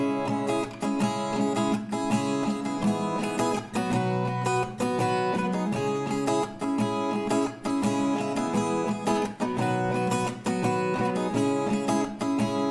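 Acoustic guitar strumming the chords of a song at standard tempo, a steady, full and continuous rhythm of bright chords played alone with no voice over it.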